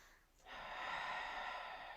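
A single long, deep breath taken during a mat workout, starting after a short pause and then holding as a steady, airy rush close to the listener until the end.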